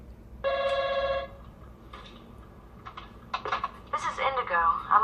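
A telephone bell rings loudly for about a second near the start, then stops as a voice begins speaking in a domestic setting.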